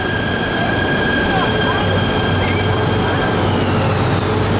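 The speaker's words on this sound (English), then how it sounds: "Ah, the train to Butterworth." A train stands at a small station in Bukit Mertajam, Malaysia, with the Butterworth service rumbling steadily nearby. Its low engine hum and faint high whine carry on without a break under the hiss of the platform.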